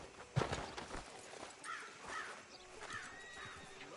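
A horse in the video game Red Dead Redemption 2 gives a few short whinnies and snorts over a busy town background, with a sharp knock near the start and soft hoof sounds.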